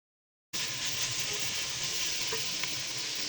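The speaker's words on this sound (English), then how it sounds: "Now add cutted onions and capsicums and stir it well." Chopped onions and capsicums for chicken Manchurian hit hot oil in a wok and set off a steady, close, bright sizzle that starts abruptly and holds evenly, with faint stirring scrapes and no talking.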